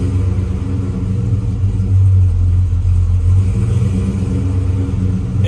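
A car engine idles on a dyno with an idle surge, giving a steady, close, loud low rumble whose pitch rises and falls slightly.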